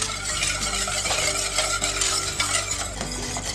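Magnolia pudding, a milk custard, thickening in a pot on the stove while a spoon stirs it steadily, scraping the bottom in a continuous close scraping and swishing with faint bubbling underneath.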